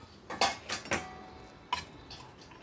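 Rice stirred with oil and turmeric in a metal vessel, a handful of close, bright scraping clinks of a spoon against the pot in quick irregular bursts, with no talking.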